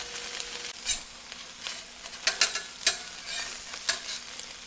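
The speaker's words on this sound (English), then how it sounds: "the Canadian bacon's already fully cooked, but I like to get it a little bit browned." Precooked Canadian bacon browning on a Vevor 22-inch flat top griddle, a soft steady sizzle with occasional sharper pops and spatula scrapes, close and fairly quiet with no talking.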